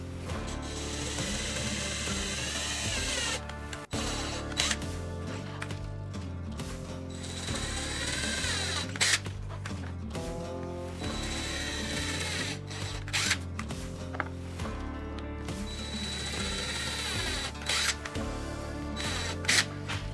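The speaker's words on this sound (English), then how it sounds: "I'll put a screw through each with two of these tiny washers." Screws are driven through pilot holes in scrap wood with tiny washers. A steady ratcheting, whirring mechanical sound runs close and continuous throughout, with brief pauses between bursts.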